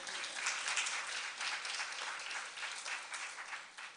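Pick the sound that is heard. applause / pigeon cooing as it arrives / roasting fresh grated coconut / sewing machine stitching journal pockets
applause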